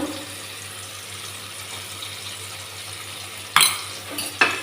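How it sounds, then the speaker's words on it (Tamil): Onion, tomato and ginger garlic paste sautéing in a pan for a jackfruit seed fry: a faint low sizzle runs throughout, then two sharp clanks of a utensil against the pan near the end. "இதையும் நம்ம நல்லா வதக்கிக்கலாம்"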